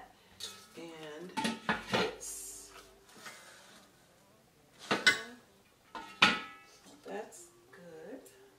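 Alclad cookware pots and lids being handled, with several sharp metallic clanks and clatters spread out as pieces are set down and fitted together, while someone talks between them.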